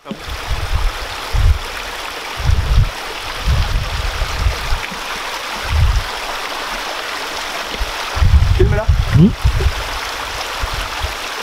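Water splashes and gurgles in a flowing stream in the Vosges mountains near the Grand Ballon, with bursts of low sloshing as someone moves about and washes in it with Aleppo soap.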